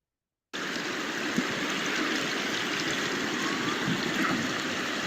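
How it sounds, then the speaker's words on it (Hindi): Water of the Kosi river near Jim Corbett Park flows and rushes in a steady, broad wash that starts abruptly after a brief silence and continues evenly, close and loud, with no voices. "यहाँ पर बहता हुआ लाइव वाटर आ रहा है"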